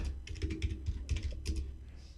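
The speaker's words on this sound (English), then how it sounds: "So I'm just typing this in my special computer." Computer keyboard being typed on in quick irregular bursts of close, crisp key clicks, heard alone without voices.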